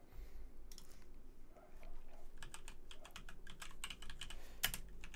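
Soft, fairly quiet keystrokes on a computer keyboard as a file name is typed, irregular taps coming in small bursts over a low background hum, with one louder click near the end.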